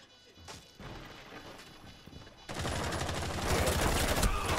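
Gunfire in the Rainbow Six Siege video game, with a headshot: scattered sharp cracks and thuds, then a loud sustained barrage of shots and crashes that grows louder toward the end. No talk is heard over it.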